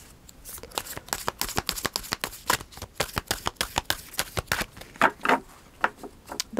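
A deck of Moonology oracle cards is shuffled close by, giving a steady run of crisp riffling flicks and slaps over several seconds with no talking.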